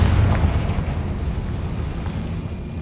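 Confringo fire spell explosion in Hogwarts Legacy, a loud low rumbling blast that starts strong and trails off into a sustained roar across the short clip.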